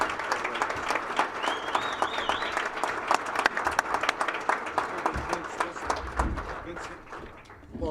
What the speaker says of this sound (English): let's please give him one more round of applause